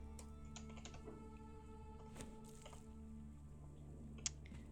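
A computer keyboard is being typed on during a Conan Exiles gaming session, with faint, scattered key clicks over a low background hum and one slightly sharper tap near the end.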